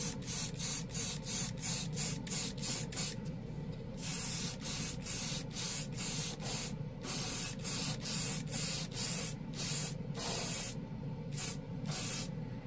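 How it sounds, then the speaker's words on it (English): An airbrush sprays DecoColor gold marker ink onto a plastic wing piece in a run of short, rhythmic bursts of hiss, close up and loud, with a few longer passes and no talking. "It sprays easy, man. This stuff sprays real easy."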